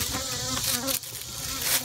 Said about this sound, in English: The bees in here are from another hive.